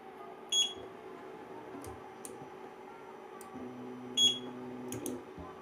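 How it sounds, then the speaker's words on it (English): A 3D printer's touchscreen gives short, sharp high beeps at irregular intervals, a few single and double chirps over a quiet background hum. "every time you press an input on the screen, it makes a loud beeping noise with no way to disable it"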